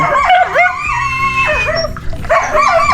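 Several dogs close by at a fishpond yipping and howling in overlapping, high-pitched barks, with whining tones between bursts.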